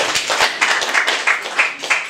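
A small group claps for a contestant at a quiz show, a loud near burst of quick claps in an uneven rhythm lasting a couple of seconds.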